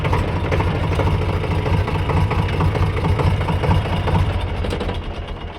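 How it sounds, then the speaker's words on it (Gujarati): A farm tractor's engine idles close by in a loud, steady, low rumble that holds evenly throughout and eases off slightly at the end. "બંધ થઈ ગયું ટ્રેક્ટર"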